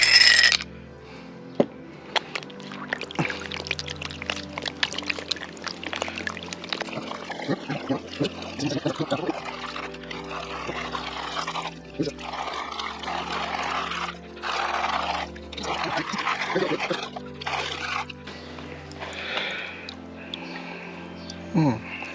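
Water pours and sloshes as sand is washed in a blue Minelab gold pan, a steady trickling and swirling close by that continues for a long stretch, with occasional splashy bursts.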